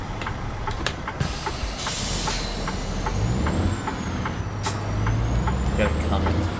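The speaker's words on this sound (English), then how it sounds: "Roll down my windows, let the truck take off." Heavy truck in American Truck Simulator pulling away, its engine rumbling steadily throughout with a sharp air-brake hiss release near the start and faint clicks over the drive.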